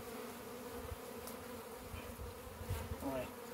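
Italian honey bees hum steadily close by at a hive full of honey, a dense, continuous buzz with a few individual bees droning nearer now and then.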